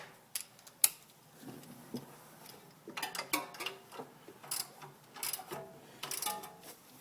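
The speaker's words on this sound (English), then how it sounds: "Go ahead and just continue torquing down the rest of your bolts." Ratchet wrench clicking while bolts are tightened on a 1971-1973 Ford Mustang during a power steering conversion, with quick metallic ticks and short bursts close by, loudest in clustered runs near the end.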